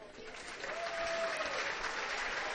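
High school basketball crowd of traveling Hamilton County fans applauding as they stand, a dense, steady clatter of clapping at a moderate distance with some voices mixed in.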